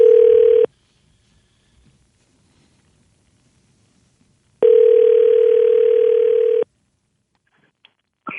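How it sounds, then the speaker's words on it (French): A telephone line gives a loud, steady dial tone in two long bursts separated by silence, with faint clicks and a short tone at the very end as a call is placed. "Alors, Luc, on va composer."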